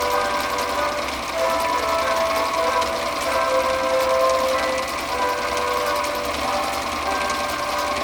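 A Husqvarna Viking 6030 sewing machine runs steadily and loudly throughout, a continuous mechanical hum and whir with faint tonal whine and no pauses.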